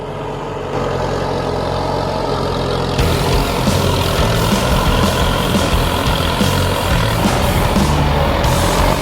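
An M95 tractor plowing a heavily overgrown grass field, its engine a steady loud diesel drone that grows heavier and rougher after a few seconds, continuous and close with no voices.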